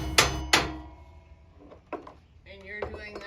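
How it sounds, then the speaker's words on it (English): A center punch is struck into an aluminum bar for a roof rack mount before drilling: two sharp metallic taps close by, followed by lighter knocks and a brief squeak of handling. "he's using the puncture, so it'll be easier for him to use the drill"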